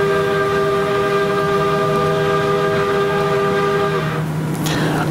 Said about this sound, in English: It's a Reading and Northern passenger train as it clips an SUV that drove onto the tracks.